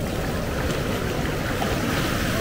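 A broad, continuous roar of heavy ocean surf from Hurricane Ian surges and washes close by, loud and steady without pause.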